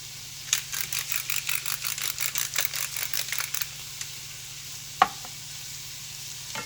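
Onions seasoned with salt and pepper sizzle in a pan used earlier for pork tenderloin, while a utensil stirs them in a quick run of rhythmic scraping strokes, then one sharp clink after a pause. Close and clear, with no voices.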